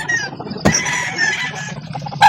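Chickens and roosters at a Calauan poultry market cluck busily in a dense, close chorus, with a few sharp calls and crowing bursts rising above the constant flock noise.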